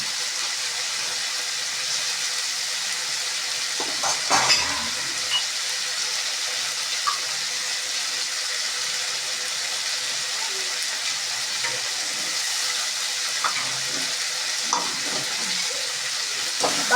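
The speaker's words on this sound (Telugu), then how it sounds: "బాగా కలుపుకోవాలి." Drumstick and tomato curry fries in a pan while being stirred, with a steady, close sizzle throughout and occasional soft scraping stirs.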